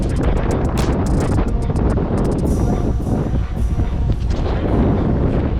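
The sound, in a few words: strong wind blowing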